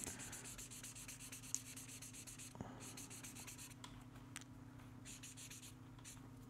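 Alcohol markers, brand-new and from Ohuhu, stroking across thin Canson Bristol paper, giving a soft continuous scratchy rubbing close up, steady throughout with a few sharper ticks and no talk.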